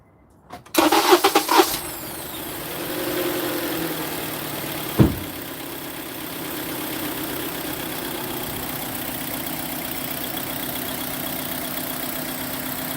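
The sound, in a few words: 2010 Honda Accord 2.4L engine starting and idling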